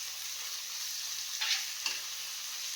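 Ginger and garlic fry with a constant bright sizzle in a pan, while a spatula scrapes through twice in quick succession midway.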